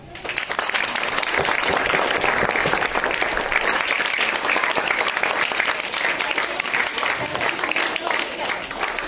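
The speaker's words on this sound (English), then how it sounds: "Yes, with loud clapping." A school audience claps loudly and continuously in a hall, a dense burst of applause that starts abruptly and holds steady for several seconds.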